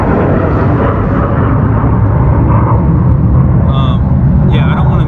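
Steady road traffic rumbles loudly and continuously outdoors, with a passing vehicle's higher whine near the end; no clear voice is heard over the dense low-frequency noise.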